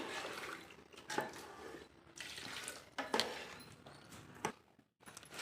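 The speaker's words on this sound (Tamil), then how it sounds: "ரெண்டு டம்ளர் தண்ணி சேர்த்திக்கிறேன்" Two tumblers of water poured into a mushroom chicken biryani pot on a wood-fired stove, giving a steady close splashing gush with brief louder surges and a short break near the end.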